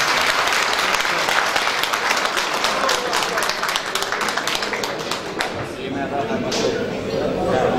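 Dense, steady applause from an audience at a Beşiktaş municipal meeting on shopkeepers' problems, loud and sustained throughout, thinning slightly near the end.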